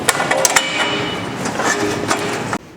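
A steel horizontal bandsaw blade is worked onto its wheel, giving loud metallic clanks and knocks over a rattling, rumbling clatter that stops abruptly near the end.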